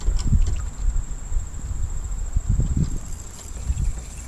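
Wind gusting across open water during kayak fishing, heard as steady low rumbling buffets against the microphone with a faint constant high whine above.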